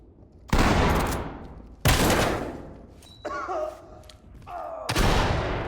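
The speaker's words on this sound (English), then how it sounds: "Use the shotgun on the door, then clear it with bangs." Loud gunfire-like blasts from a shotgun breaching a door, followed by flashbang detonations in the tactical shooter Ready or Not, several heavy booms in quick succession with ringing tones between them.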